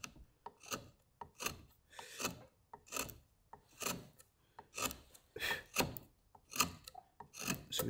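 A rasp shapes the top of a hand-carved wooden spoon in steady, rhythmic strokes, about two per second. Each rough scrape is close and clear, with no talking.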